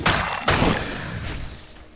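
An explosion effect in the video game Victor Vran: two loud booming blasts in quick succession, each trailing off into a fading rumble.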